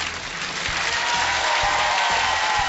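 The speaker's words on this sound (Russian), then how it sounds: "Эти аплодисменты вам!" Studio audience applause in a TV game show video game based on Pole Chudes, a dense steady clapping that fills the whole stretch, close and loud with no talking.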